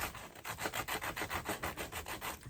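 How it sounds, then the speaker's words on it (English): A finger sander works a wooden spindle, making a rhythmic rasping rub of about a dozen even back-and-forth strokes, close and moderately loud with no voices. "So I'm just going to use my finger sander."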